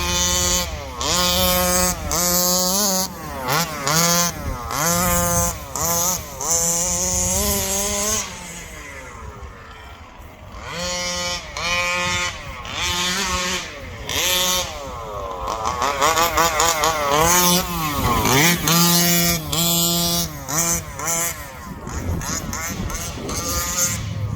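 A Rovan Baja 5t RC car with a 36cc petrol engine, bashed at full throttle, screams loud and close in repeated high-revving bursts that rise and fall as it accelerates and backs off.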